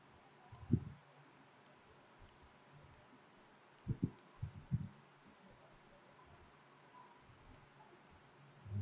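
Faint, sparse mouse and keyboard clicks at a computer while copying a group with Ctrl D, a few isolated taps spread out over a quiet background hum.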